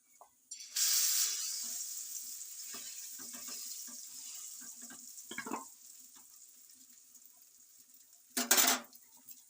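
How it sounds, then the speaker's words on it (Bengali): Dhoka, a lentil cake, frying in hot oil on a tawa, opening with a loud sizzle burst that settles into a steady hiss, with scattered utensil clinks and another sharp sizzle flare near the end. "তেলটা হালকা গরম হয়ে এসছে এরপর আমি দিয়ে দেবো ধোকাটা"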